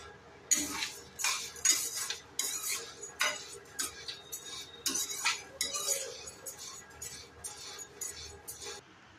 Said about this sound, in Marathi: आता मी सगळं एक एक करून भाजून घेते.